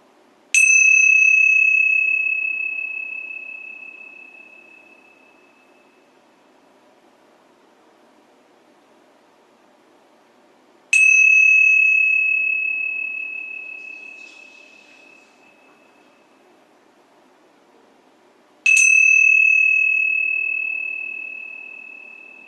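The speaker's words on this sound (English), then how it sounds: "As we hear the sound of the bell," A meditation bell is struck three times at a slow, unhurried pace, each clear ring sustaining and fading gently over several seconds against a soft, steady background hush.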